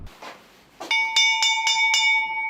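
A bright bell chime rings four clear, evenly spaced strikes, each note ringing on with a sustained metallic tone, used as a news sound effect after a short stretch of quiet background.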